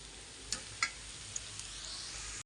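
Aluvadi fry in oil with a soft, continuous sizzle, broken by a few sharp crackles and pops early on, quiet and close before cutting off.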